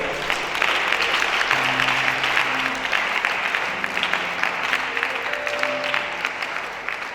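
A congregation applauds during a French-language church worship service. Steady, lively clapping from many hands fills the space over soft sustained music tones.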